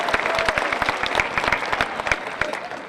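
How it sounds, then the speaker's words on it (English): A high school commencement crowd applauding steadily, dense clapping from many hands that holds at an even level throughout. "Let's give them another big round of applause."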